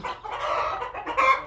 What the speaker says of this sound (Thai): เสียงอาจจะไม่ค่อยได้ยินนะพี่เสียงไก่ร้อง